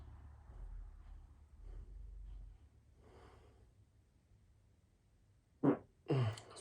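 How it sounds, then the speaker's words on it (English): A person farting, two short loud bursts near the end after a stretch of quiet low rumble and faint breathing. "My fart stinks."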